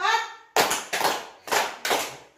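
After a brief spoken voice, hands clap in a classroom rhythm exercise, a run of about five crisp claps, some grouped closely in pairs, loud and close.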